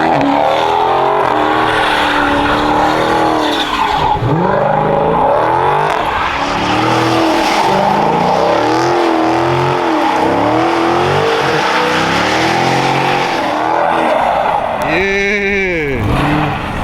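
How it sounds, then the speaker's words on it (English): Dodge Hellcat spinning a donut, its engine roaring loud and steady with rising and falling revs and tires screeching throughout, voices briefly audible over it. "He about to do a donut."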